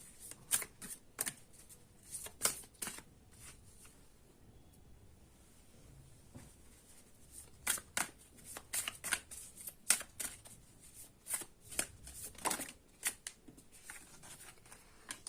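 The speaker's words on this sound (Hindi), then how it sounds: "तो यहां से लेते हैं मेजर आर्काना कार्ड" A deck of tarot cards is shuffled by hand, producing repeated quick riffling and flapping bursts close by, with quieter pauses between rounds.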